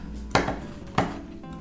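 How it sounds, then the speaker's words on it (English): Two sharp knife chops land on a cutting board as chocolate is roughly cut for melting, close and distinct, spaced about half a second apart over a faint background hum. "You are just trying to get them chopped roughly so that they melt easier."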